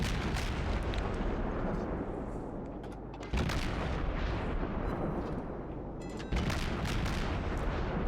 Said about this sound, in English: Continue firing at the Fuso.